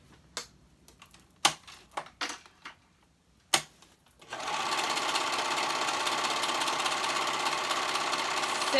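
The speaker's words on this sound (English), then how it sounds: "We fold in half and we serge the raw edge." Serger overlock machine running along the raw folded edge of a sweatpants cuff, a loud continuous close-up whir starting midway after scattered handling clicks and taps.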